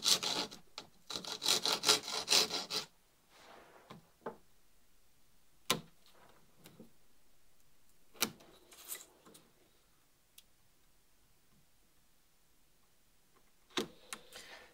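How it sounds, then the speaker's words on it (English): Small notches are cut into a wooden boat template for a scow by hand, giving bursts of rasping, scraping strokes at first, then scattered sharp clicks and scrapes separated by quiet pauses. "And now I just have some little notches to make."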